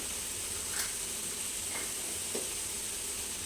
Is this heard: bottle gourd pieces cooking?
yes